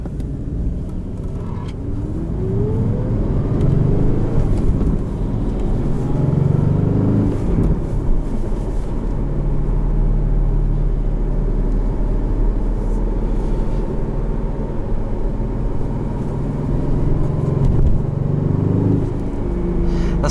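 A 2021 Aston Martin Vantage V8 with a manual gearbox, heard from inside the cabin as its engine rumbles and rises in pitch under acceleration, with brief dips at gear changes and a steady, loud, close drone.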